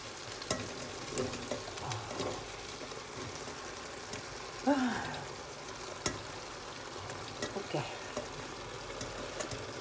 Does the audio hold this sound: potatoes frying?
yes